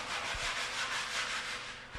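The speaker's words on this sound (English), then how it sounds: "Sand down with a coarse-grained glass paper." Previously painted timber being sanded by hand with coarse-grained glass paper, a continuous close scratchy rubbing with rhythmic back-and-forth swells and a couple of light knocks.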